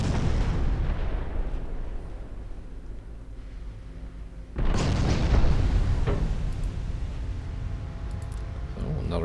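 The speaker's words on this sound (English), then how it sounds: "So, another battleship went down." Booming explosions as a battleship sinks in the naval warfare game Ultimate Admiral Dreadnoughts, a low rumbling bed that swells into a louder, sustained burst midway and keeps rolling.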